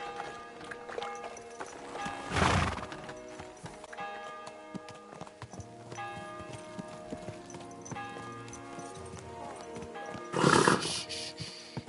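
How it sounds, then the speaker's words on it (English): Horse in the medieval game Kingdom Come: Deliverance II, with rhythmic hoof clip-clop close by and two loud whinnies, one early and one near the end. "Easy, good horse."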